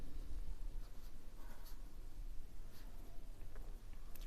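Marker or chalk scratches steadily across a board during a maths lesson on angle equations, a faint, continuous scribbling over low room noise, with no speech.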